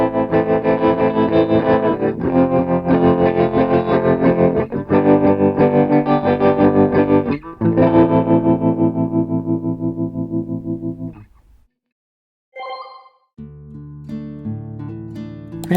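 Clean electric guitar arpeggio through a Fender-style amp head in Studio One Ampire, wavering with vibrato and tremolo; repeated plucked notes ring steadily for about eleven seconds, stop to near silence, then a few sparse notes return.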